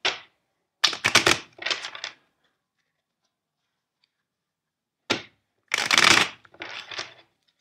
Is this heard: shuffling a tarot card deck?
yes